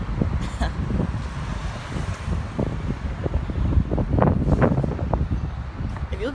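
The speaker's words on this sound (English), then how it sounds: "it's windy here" Wind gusting on a downtown Birmingham street, a steady low rumble of microphone buffeting with faint traffic behind it and someone talking over it.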